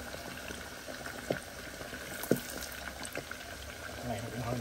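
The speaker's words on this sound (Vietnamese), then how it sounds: "Cái này mình chiên ngập dầu nó mới ngon nha các bạn." Chicken-wrapped sticky rice deep-fries in plenty of oil, giving a quiet, steady bubbling sizzle broken by scattered sharp pops and crackles, with possible faint voices in the background.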